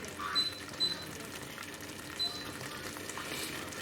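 Thick lamb karahi gosht sizzles and bubbles in a pan on an induction hob, a steady soft frying hiss with a few brief clinks, no talking.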